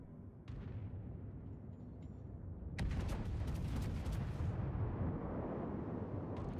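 Heavy naval gunfire in World of Warships, a loud broadband booming roar that jumps up sharply partway through and holds as a sustained rumbling salvo with no voices.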